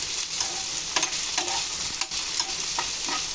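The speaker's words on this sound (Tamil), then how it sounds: "இப்போ நான் பொட்டேட்டோ ஆட் பண்ணிக்க போகிறேன். ஆட் பண்ணிவிட்டு அதையும் நல்லா சேர்த்து வதக்கிக்கோங்க." Potatoes sauté in a hot pan for a Spanish omelette, a close, continuous sizzle broken by repeated scrapes and stirs of a utensil, with no talking.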